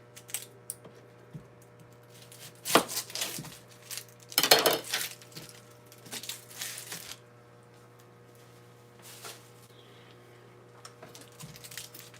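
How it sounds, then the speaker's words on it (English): Onions are chopped with a knife on a cutting board in a home kitchen. Quiet bursts of sharp taps come in irregular clusters over a steady low hum, with short pauses between the runs of cuts. "Cut up these onions, y'all feel me?"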